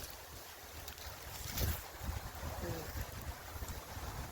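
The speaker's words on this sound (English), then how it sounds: "it is windy out here a little bit" Wind gusts rush past the microphone outdoors at an archery practice spot, moving the trees, a low rumbling buffet with a brief stronger gust partway through.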